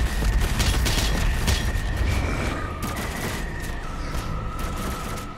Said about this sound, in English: Let's see, shotgun?